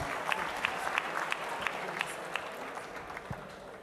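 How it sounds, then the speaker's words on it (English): Applause for the Chancellor at a Makerere University graduation ceremony in a large assembly, a fairly faint, even spread of clapping from a distant crowd with some distinct individual claps. "Another round of applause for the Chancellor, please."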